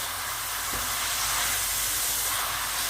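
Tomato sauce sautés in a pan for a black-eyed pea stew, giving a loud, continuous hiss of sizzling that holds steady throughout with no talking.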